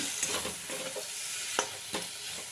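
Spice paste with a little oil, including coriander powder, stirred and fried in a pan for a rohu fish curry with taro; steady close sizzle broken by sharp scraping strokes of the spoon, with no talking.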